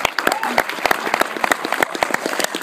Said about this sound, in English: you should just all applaud yourselves